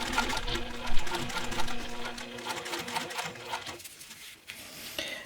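A sewing machine top stitching vinyl at a 4mm stitch length on a laptop bag, running in a steady rapid whir for about four seconds before slowing and falling quiet, with a brief burst near the end.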